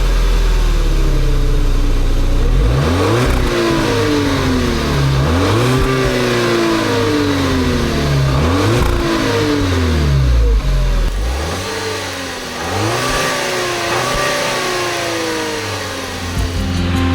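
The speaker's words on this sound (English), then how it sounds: "this engine is a legendary four-cylinder Volkswagen turbocharged engine" A 2015 VW Tiguan's turbocharged four-cylinder engine revs hard in repeated sweeping climbs and drops, loud and close, with no voices over it.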